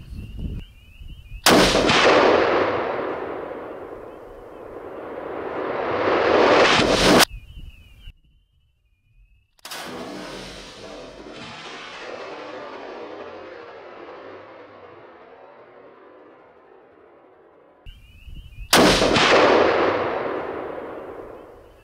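Two sharp, loud 300 Win Mag rifle shots fired at a groundhog crack out several seconds apart, each followed by a long rolling echo, with a third report at the end.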